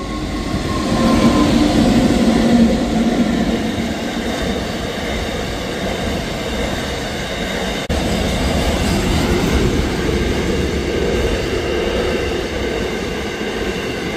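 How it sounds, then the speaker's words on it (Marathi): A freight train passes a railway crossing, heard as a loud, continuous rumble and rattle of wagons rolling close by, with rhythmic wheel clatter holding steady throughout. "ट्रेनचं आगमन झाले. मालगाडी हो."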